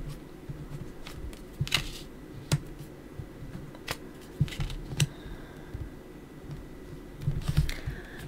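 Tarot cards are opened and handled at close range, giving soft taps, clicks and papery rustles in irregular bursts against a quiet room, with no speech.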